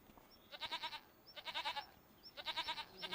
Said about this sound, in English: there's the baby goats, along with the big brother goats